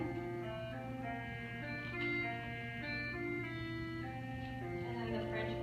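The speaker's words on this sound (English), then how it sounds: "Or this is another type of saxophone." A saxophone plays a sustained melodic line with rich harmonics, steady and moderately loud over a soft background, no talking.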